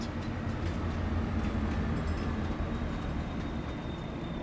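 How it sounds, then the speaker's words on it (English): Train rumble in a video game as the train is hijacked, a loud continuous rolling roar of rail cars and wheels with faint squeals, steady throughout with no talk. "When we come in, we hijack the train."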